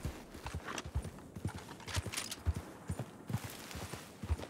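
Horse hooves clip-clopping at a steady walk in the Red Dead Redemption 2 video game, a close, regular rhythm of dull thuds repeating through the whole stretch with no talk over it.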